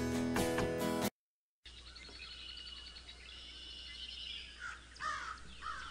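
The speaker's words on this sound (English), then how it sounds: "Now, what have you done with those crows" Crows caw in the Bob the Builder: Bob's Castle Adventure video game. A short burst of music gives way to silence, then a few fairly faint, scratchy caws and chirps toward the end.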